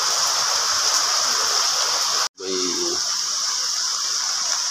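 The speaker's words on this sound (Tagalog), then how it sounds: "Malakas ang ulan." Steady, dense hiss of heavy rain pours down continuously, briefly cut off by a momentary dropout before resuming, with a faint low voice murmuring under it.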